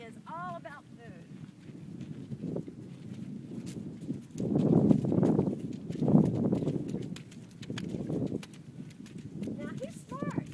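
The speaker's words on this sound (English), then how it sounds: "we walk through water, we walk over the bridge, we try to get the horses acclimated" A Mustang horse walks a trail training course through water and over a bridge, its hooves giving soft, muffled steps under steady wind noise, with a person talking over much of it.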